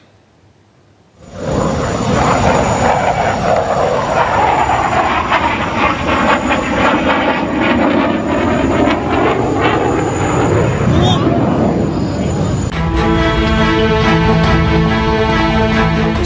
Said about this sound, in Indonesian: Sebuah jet tempur Tejas milik Angkatan Militer India terjatuh.